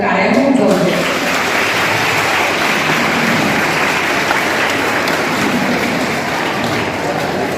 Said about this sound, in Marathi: एकदा जोरदार टाळ्या घेऊन जाऊ